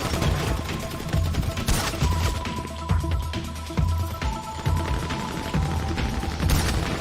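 Game gunfire in repeated sharp shots and short bursts, mixed with booms and crashes over a busy, steady background, with no voices in between.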